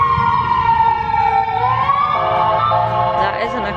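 Emergency vehicle sirens wailing through New Orleans streets, the pitch sliding down and back up over traffic rumble at mid distance, with a voice talking in the background.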